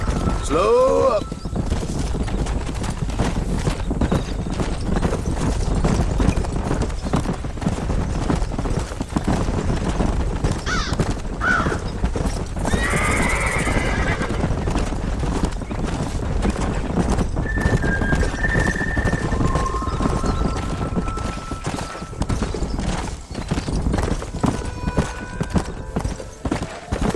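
Horse herd moving in the western video game Red Dead Redemption: a long, dense rumble of many hooves clattering on the ground with occasional neighs and whinnies, mixed with talk and game sounds throughout.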